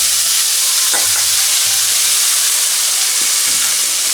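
Loud, continuous sizzle and hiss as soaked thick poha is stirred into a hot tempering with asafoetida in a pan, with a few soft scraping stirs under the steady frying noise.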